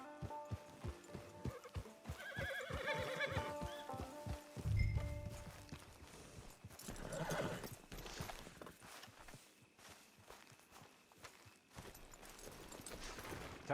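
A horse in the Red Dead Redemption Online video game clip-clops at a walking pace, then whinnies loudly and snorts, followed by quieter hoof thuds and shuffling at a modest volume.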